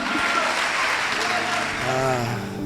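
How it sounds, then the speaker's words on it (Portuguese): A church congregation applauds in praise during a worship service, a steady broad wash of clapping with a brief voice rising over it near the end. "aplauda ao nome do Senhor"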